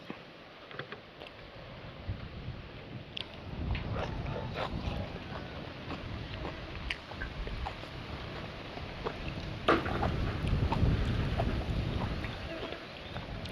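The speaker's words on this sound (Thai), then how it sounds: "ขนาดลมพัดเนาะ" Steady wind blowing and buffeting the microphone outdoors, with scattered knocks and rustles throughout.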